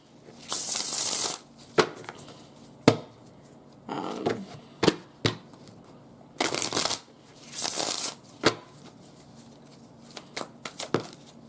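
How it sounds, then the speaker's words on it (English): Tarot cards are shuffled by hand in close, papery riffling bursts with sharp taps and slaps between them, in irregular rhythm, with no other sound around them. "I'm going to go ahead and just pull some cards, some tarot"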